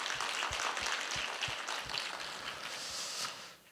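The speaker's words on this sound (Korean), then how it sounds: "여러분, 청장년들 너무너무 귀한데 우리 박수 한번 해드릴까요?" A church congregation at a leadership seminar applauds, a faint, dense patter of clapping from many hands heard at a distance, steady and then fading out at the end.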